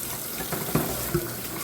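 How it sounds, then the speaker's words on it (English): Tap water running steadily into a kitchen sink to fill it for washing dishes, a soft continuous gush with a couple of faint clinks, no talking. "I am going to run me a sink of water because I'm always needing to wash dishes"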